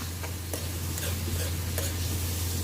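Eggplant adobo sautéing in a pan, a steady low sizzle with faint scraping stirs as the pieces are tossed, close and continuous.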